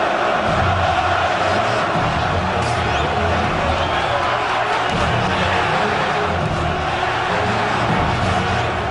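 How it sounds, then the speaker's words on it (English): A packed boxing arena crowd roars continuously, with chanting and singing blending into a dense, steady wall of voices while a commentator talks over it. "Listen to this crowd, the chanting, the singing"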